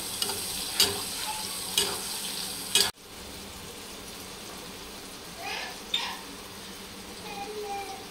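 Chopped onion stirred and fried in oil with cumin for masala sevai, a steady sizzle broken by a few sharp scraping stirs early on, then quieter frying with occasional clinks.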